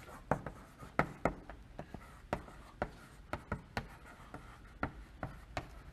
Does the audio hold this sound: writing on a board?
yes